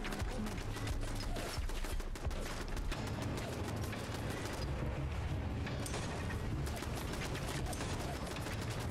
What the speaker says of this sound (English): I think it's just the turrets just hitting me slowly.